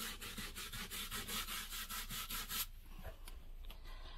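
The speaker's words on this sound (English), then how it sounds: "Let's get that scrub out." Teak wood is scrubbed with quick, rhythmic back-and-forth rasping strokes, close and steady for a few seconds before stopping abruptly into quieter handling sounds.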